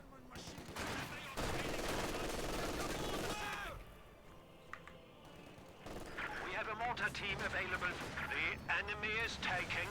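MG42 machine gun in a competitive Company of Heroes-style WWII strategy match, firing from a defensive position amid dense battle noise of gunfire and explosions, with a commentator talking over it.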